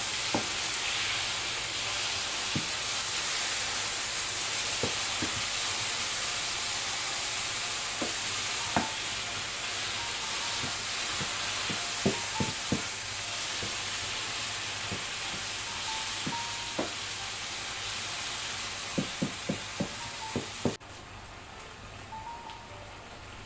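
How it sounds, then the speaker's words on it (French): Blended tomatoes stirred into a hot frying pot for a beef dish with mushrooms and okra, a steady sizzle under scattered scraping spoon strokes, close and continuous, ending with a quieter stretch. "Je mets mes tomates mixées. Et je mélange."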